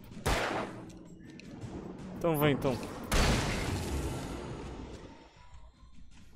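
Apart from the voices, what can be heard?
gunshots fired at enemy in video game Alan Wake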